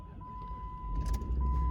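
V8 pickup truck engine at a car dealership, heard close as it cranks and catches into a rising rumble, with a steady chime tone running through and no talk.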